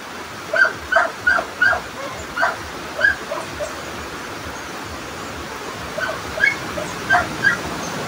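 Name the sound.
pet dog barking and whimpering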